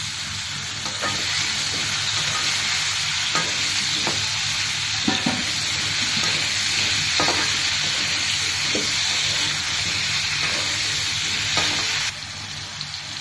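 Soya chunks and potato frying in oil in a pan, a steady loud sizzle with a few scraping stirs, close and continuous.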